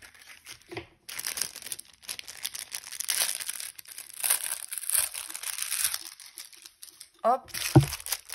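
Ribbon being cut for FIMO clay jewellery and keychain making, a close run of dry crinkling and snipping rustles lasting several seconds, with a brief voice near the end.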